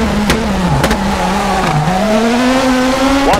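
Rally car in the video game WRC 4 sliding through a handbrake turn, engine note dipping and rising with sharp transient clicks and a brief tire-squeal sweep at the end, loud and close.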